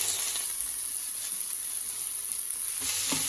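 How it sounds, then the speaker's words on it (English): Pak choy stir-frying with Taiwanese basil chicken in a hot pan gives a steady, loud, close sizzle throughout, with a few faint stirring scrapes near the end. "And now we're going to add in the pak choy basis, which is, and then we're going to cook that for about 1 minute"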